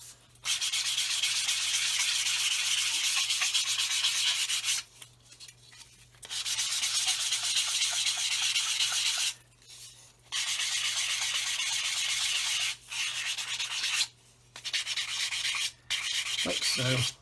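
A sanding stick rubs across plastic fuselage halves of a 1/144 Roden C-141B Starlifter scale model, steady close scratchy strokes in long bursts separated by short pauses, with no talking.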